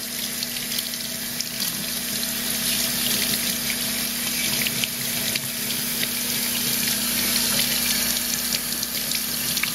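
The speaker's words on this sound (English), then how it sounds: "running under cold water." Cold tap water runs steadily into a kitchen sink over raw spiced chicken being rinsed for confit, a constant close splashing hiss with a low hum underneath and no talking.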